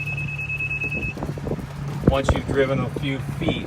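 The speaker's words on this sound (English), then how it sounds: "You can hear my cart still beeping" A steady high electronic geofence warning beep from a golf cart sounds for about a second over low engine rumble, then a person starts talking.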